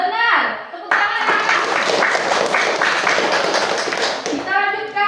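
A classroom of students claps together after a group presentation, a burst of busy hand claps with children's voices talking around it at the start and end.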